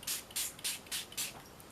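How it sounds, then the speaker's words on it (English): Five quick sprays onto mixed media paper, each a short, close hiss of fine mist about a quarter second long, evenly spaced with brief quiet gaps between. "so I'm going to spray again"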